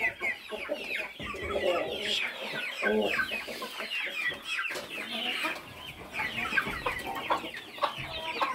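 Mature hens and young chicks cluck and peep continuously at close range, a busy overlapping stream of short calls from a backyard chicken flock.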